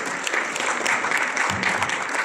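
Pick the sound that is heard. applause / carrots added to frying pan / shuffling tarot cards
applause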